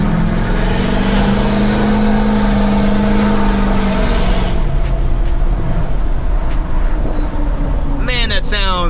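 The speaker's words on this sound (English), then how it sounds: "All right, we'll do some turbo noises." A truck's turbo whistles and spools, a loud rising whine over a heavy engine rumble that drops away midway, followed by an air brake hiss and chattering release near the end.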